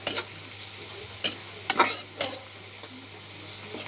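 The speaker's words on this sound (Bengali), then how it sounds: "এবার দুটো আমি একসাথে ভেজে একটা মশলা তৈরি করে নেব।" Chopped onion and garlic frying together in a pan, with a low steady sizzle under repeated scraping and clinking strokes of a utensil against the metal, and no talking.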